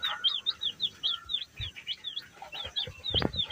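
Young native chicks chirp in quick, repeated high peeping calls, close by and fairly loud, with a few soft thumps and a brief louder burst near the end; no one speaks.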